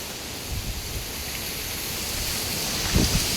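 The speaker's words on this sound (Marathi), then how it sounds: "जबरदस्त पावसाने आता सुरुवात होते आहे." Heavy first monsoon rain setting in with strong gusting wind in Sindhudurg, a steady loud broadband roar of rain and wind with a couple of brief low thumps near the end.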